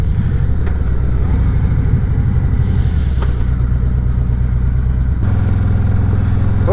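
A 2018 Harley-Davidson Road Glide Ultra motorcycle engine rumbles steadily while riding, a loud, continuous low throb with a brief shift in tone near the end, no talking.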